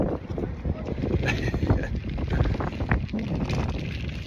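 Gusty wind buffets the microphone aboard a narrowboat, a rough, uneven rumble with bursts of flutter and a few knocks, heard close and fairly loud throughout.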